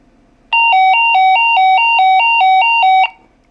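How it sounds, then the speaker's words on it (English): A loud two-tone electronic chirp from a Kenwood TK-481 800 MHz two-way radio with no repeater, alternating rapidly between two pitches for about two and a half seconds, then stopping abruptly. "So that's what the Kenwood TK-481 sounds like when you don't have a repeater that's set up for it"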